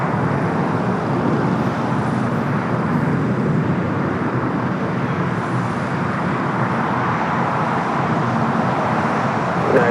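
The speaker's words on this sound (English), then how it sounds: "2096 is the flight number of the Dreamliner 787-9 and Dreamliner heading to Newark" A Boeing 787-9 Dreamliner departs LAX, its broad, steady jet roar holding loud and continuous throughout with a faint hiss of distant traffic beneath.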